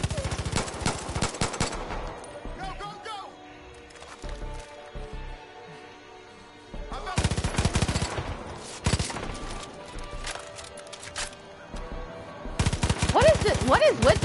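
Enemy gunfire rattles in Far Cry 5, loud rapid bursts of automatic shots in two long stretches separated by a quieter lull, with someone talking faintly at moments.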